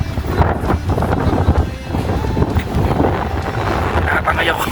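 Strong wind blasts into the microphone at a high lookout above a sea of clouds near Baguio, making a constant loud, rough rumble with gusty swells. Voices are faintly mixed in underneath.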